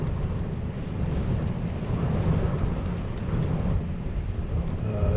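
Steady heavy rain and low rumbling thunder during a severe thunderstorm, heard from a truck camp, a continuous dense roar with no talking.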